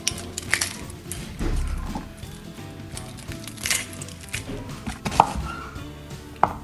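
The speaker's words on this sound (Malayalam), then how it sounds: "ഇതുപോലത്തെ കുറച്ച് റെഡ് ഓനിയൻ എടുത്തിട്ട് അത് നല്ല ബിഗ് ഡൈസായിട്ട് കട്ട് ചെയ്യുക" A knife chops red onion into big dice on a board, with irregular sharp knocks and thuds up close and quiet handling noise between cuts.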